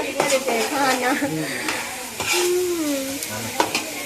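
A pot of ragi java is stirred with a continuous bubbling, scraping sound, and voices talk over it now and then.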